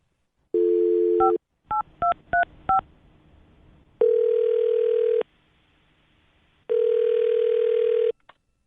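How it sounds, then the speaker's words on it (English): Telephone tones sound alone: a held tone, a quick run of dialing beeps, then two long repeated ringing tones with silence between. "I'll dial his phone number right now"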